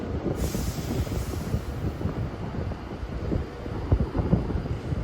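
A Class 390 electric train, unit 390 103, rolls through Carlisle bound for Edinburgh, producing a steady, dense rumble with rhythmic wheel clatter, close and continuous.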